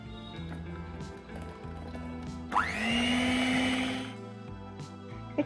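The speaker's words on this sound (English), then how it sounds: "To this add vanilla essence and 3/4 cup of cocoa powder and whisk it again until the cocoa powder is mixed well to the batter." An electric whisk whirs briefly into cocoa powder and ragi cake batter, a rising motor whine lasting about a second and a half, set against quieter background clatter.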